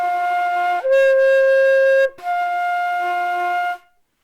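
A lone brass instrument plays a clean slurred phrase, holding a note, stepping up and sustaining, then dropping back to the lower pitch before cutting off into silence.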